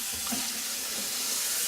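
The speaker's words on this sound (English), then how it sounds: "let cold water run on it" Cold tap water runs steadily onto freshly boiled eggs in a pot after the hot water is poured off, a constant close splashing hiss with no voices.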